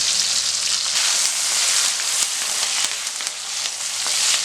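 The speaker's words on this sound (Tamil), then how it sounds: "இப்போ நல்லா வதக்கியாச்சு." Garlic, onion, curry leaves and spices sizzle and fry steadily in a hot pan, a close, continuous crackling hiss with small pops and the occasional scrape of stirring.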